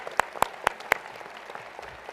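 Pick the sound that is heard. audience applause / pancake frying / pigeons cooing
audience applause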